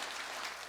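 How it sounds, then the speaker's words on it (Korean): Church congregation applauding in praise of God during a Sunday worship service in Pohang, a dense, steady wash of many hands clapping throughout the brief moment. "크게 하나님께 영광의 박수"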